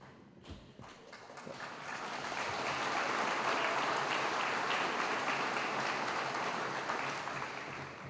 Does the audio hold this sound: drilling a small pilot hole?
no